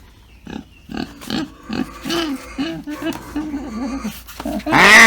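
A hungry pig grunts, squeals and snuffles at close range in rapid bursts, ending in a harsh loud squeal, with people talking over it.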